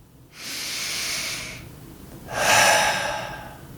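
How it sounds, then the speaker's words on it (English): Two slow, deep breaths are heard close up, a long airy inhale followed after a pause by a louder, breathy exhale, with nothing else in the background. "So breathe with me."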